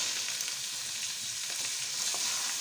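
Garlic fries in a pan with a continuous bright sizzle as calamari go in for a seafood paccheri dish with scampi and prawns. The crackle is steady and close, with light stirring and no voices.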